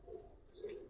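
Giribaz pigeons coo softly in two low, rounded calls, faint and somewhat distant, with a brief higher chirp between them.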